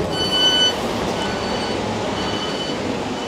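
A train stands or moves at the Ardwick railway station platform, giving off a loud, steady rumble with thin high whining tones running over it and no talk.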